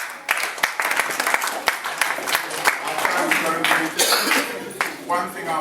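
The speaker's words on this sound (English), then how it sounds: "Can you give it a round of applause, please?" Relatives applaud at a family reunion gathering, close, sharp claps in an uneven patter, with voices and cheering mixed in.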